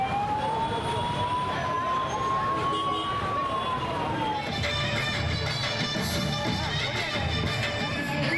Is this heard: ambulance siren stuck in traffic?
yes